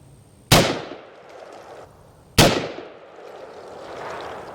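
Two loud shotgun blasts from a Tavor TS12 bullpen shotgun fired at an outdoor range, spaced about two seconds apart, each sharp report followed by a long echoing decay with no talking.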